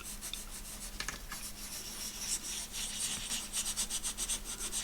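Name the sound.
embossing dauber rubbed over numbers on a journal page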